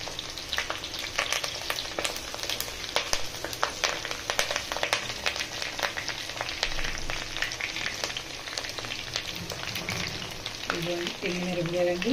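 Mustard seeds, cumin and curry leaves crackle and sizzle steadily in hot oil, a dense continuous frying hiss with sharp popping spatters throughout, fairly quiet and close, with a brief clink of a utensil near the end.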